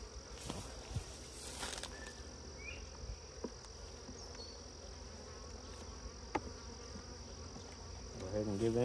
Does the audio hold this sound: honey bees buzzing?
yes